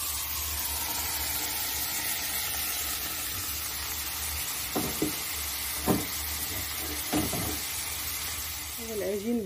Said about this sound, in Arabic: غادي نوضع الدجاج كيطيب في هاد المقلات، ما نضيفش ليها الزيت لان ضفتو للدجاج، ونخليه يطيب